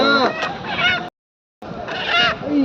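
Native chickens at a market in Dammam, Saudi Arabia, clucking and squawking loudly close by, two bursts of agitated calls separated by a brief silence.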